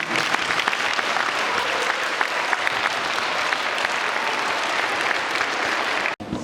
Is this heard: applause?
yes